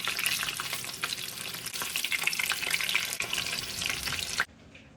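Pieces of chicken frying in oil in a small frying pan, a steady loud crackling sizzle throughout that cuts off abruptly near the end.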